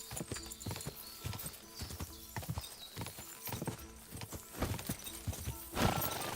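A horse gallops in the medieval video game Kingdom Come: Deliverance, with rapid, rhythmic hoofbeats close by and a neigh near the end.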